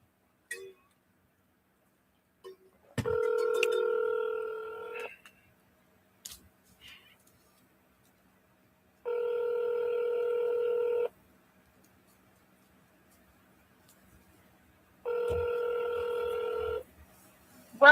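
Outgoing telephone call ringback tone, three evenly spaced two-second electronic ring bursts separated by long silent gaps, clear and moderately loud, with a few faint clicks between.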